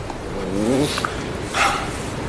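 A dog gives a short, rising whine followed by a couple of quick, faint barks, heard close by in an otherwise quiet room.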